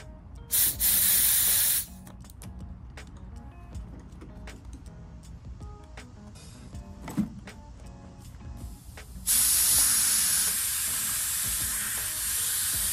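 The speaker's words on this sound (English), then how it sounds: "Now let's air it up. Bring the compressor over." Air compressor inflating a new inner tube in a late-1990s Dino Air BMX bike tire: two loud bursts of steady hissing air, a short one near the start and a longer one at the end, with quieter handling noises between.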